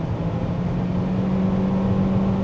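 A 2026 Toyota Corolla Cross Hybrid accelerates at full throttle, giving a steady, moderately loud drone with a sustained low tone and no speech over it.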